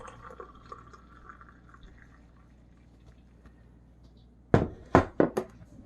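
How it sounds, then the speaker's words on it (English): Camp coffee from a French press poured into a cup, heard as a few short, close liquid splashes and knocks in quick succession after a quiet stretch of faint background. "And then you just pour the coffee."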